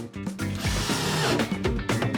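A power drill drives a screw into wooden plugs set in a door's hinge holes, a short buzzing whir that rises and dips as the screw bites, close and alone.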